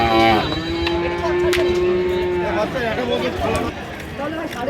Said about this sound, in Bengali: এখানে একটি সেরা মানের ফ্রিজিয়ান বাছুর দেখা যাচ্ছে